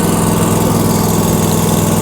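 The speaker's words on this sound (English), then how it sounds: "little bit of throttle, little bit of choke, start it right up" The engine of a Kioti ZXS stand-on mower runs loud and close, a steady rumbling drone with an even low throb throughout.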